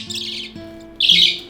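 A 46-day-old budgie chick squawking indoors, two loud, harsh bursts close by, separated by a brief pause, with a faint steady hum in the background.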